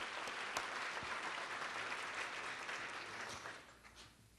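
Applause from a county audience honoring federal and state elected officials, a steady wash of many hands clapping at moderate distance that thins and fades out near the end.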